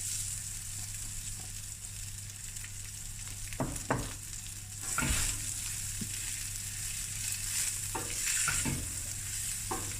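Rice goes into a hot pan and is stirred, giving a steady frying sizzle with a few sharp scrapes and knocks of the spoon, close but fairly quiet, with no talk.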